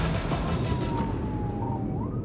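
A police car's siren wails continuously during a high-speed pursuit, loud and close over heavy road and engine roar.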